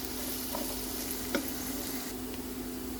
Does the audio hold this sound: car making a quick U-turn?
no